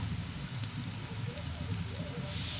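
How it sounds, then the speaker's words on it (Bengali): Onions and garlic fry in a pan being browned for aloo chilli, a steady close crackling sizzle with a broadband hiss that holds evenly throughout. "আর একটু আমি করব, এখানে ভালো করে ভেজে নেব।"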